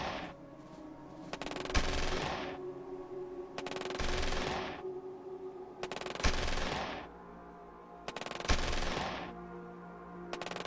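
Rapid automatic anti-aircraft gunfire in a video game, loud sustained bursts of about two seconds repeating roughly every two seconds, with echoing decay between them and no talk.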